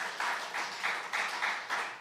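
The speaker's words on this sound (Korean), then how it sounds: "박수 한번 쳐줘" A church congregation applauds in short rhythmic waves, the clapping swelling and easing roughly every quarter second in a moderately faint, roomy sound with a few voices underneath.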